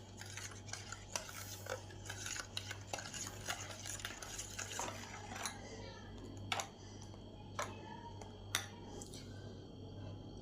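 Dough ingredients for soft milk parota being stirred together by hand in a bowl, with repeated soft scraping and clicking strokes and occasional sharper taps, close and fairly quiet over a steady low hum.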